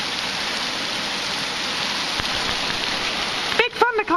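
Heavy pouring rain from a thundercloud, a steady dense wash of drops close by, broken near the end by brief voices.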